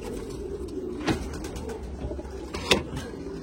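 Pigeons cooing in a loft, with a couple of brief, louder coos standing out over a steady low murmur of birds and background noise.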